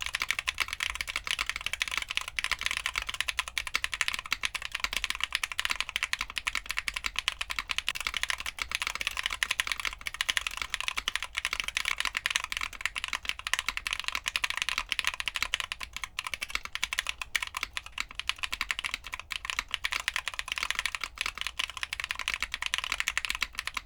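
Steady, continuous typing on a mechanical keyboard fitted with Geonworks Geon Black long-pole linear switches, comparing stock and lubed-and-filmed versions. The clacks are close and even throughout, with no talking.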